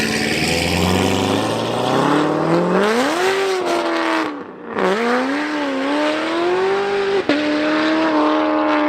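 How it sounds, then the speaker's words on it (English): A Chevrolet Corvette C7 ZR1 supercharged V8 revs hard and close, its rising tone climbing through the gears with a brief dip and shift before pulling again, loud and alone. "Their supercharged V8s are truly music to everybody's ears."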